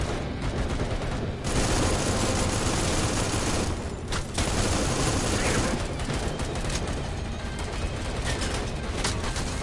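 Gunfire aimed at enemies in a video game keeps up as a steady, dense barrage throughout, with a brief dip partway and a few louder cracks on top.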